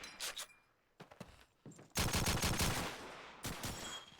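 Machine gun fire in a Call of Duty match: scattered sharp shots give way to a dense, sustained burst of automatic fire, then a final short volley, loud and close.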